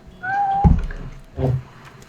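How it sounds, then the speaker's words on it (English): A house cat meows twice in the background, a drawn-out first call followed by a shorter second one, fairly close and clear with no talk over it. "Sounds like a little kitty cat in the background there."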